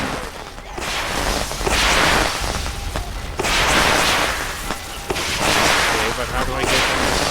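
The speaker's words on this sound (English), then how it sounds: "Okay, but how do I get them to stop throwing fireworks?" Fireworks go off in the video game Overlord II, a run of loud booming bursts in rolling waves with crackling tails, under continuous game sound.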